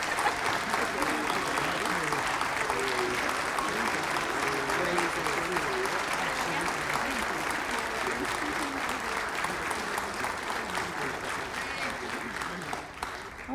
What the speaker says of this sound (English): Let's give them a round of applause because they sure deserve it.